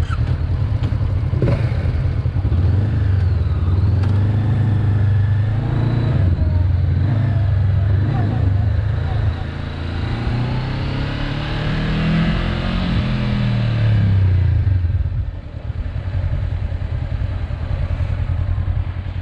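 A Honda CB 500 motorcycle engine runs loud and close, rising and falling through revs with a rough low drone, briefly easing near the end while a voice talks faintly beneath.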